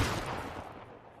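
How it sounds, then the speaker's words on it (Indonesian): A single sharp gunshot in a John Wick 4 film scene bursts out, its loud crack decaying into a brief rumbling tail. "John Wick pun terkena tembakan yang membuatnya tersungkur ke tanah"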